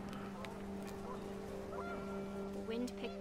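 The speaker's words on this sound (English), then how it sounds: "The wind picked up, and panicked geese appeared and quickly went." Panicked geese honk in a few short, faint calls amid windy ambient hum in the video game What Remains of Edith Finch, with steady droning tones underneath.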